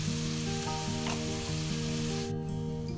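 Onions with salt sauté in a pan, giving a steady close sizzle and crackle that runs throughout, with a faint stir scrape.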